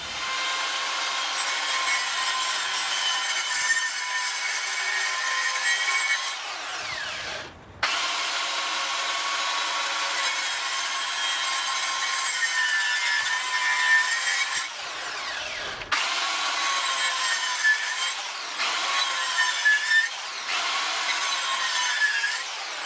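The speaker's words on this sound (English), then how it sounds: "I'm going to cut it in slits and then chisel it out." Handsaw cutting slits into a wooden pergola cross beam, a near, rasping back-and-forth stroke repeated steadily in several long bursts separated by brief pauses.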